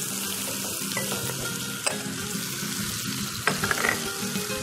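Chunks of garlic and ginger frying in a pan with a loud, steady crackling sizzle, with a couple of sharp utensil scrapes and no voices.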